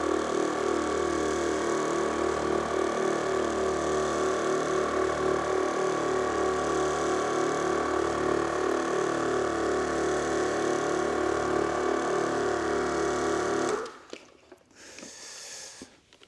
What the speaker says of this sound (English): Now the compressor comes on.